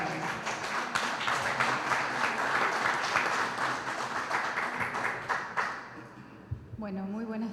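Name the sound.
audience applause for a speaker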